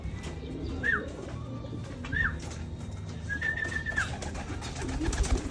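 Racing pigeons in free flight give several soft rising-falling coos, spaced a few seconds apart over a steady low outdoor rumble, with one longer drawn-out call near the middle.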